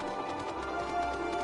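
A horse's hooves clip-clop steadily in the Final Fantasy XIV video game, with light rhythmic beats under the game's background music.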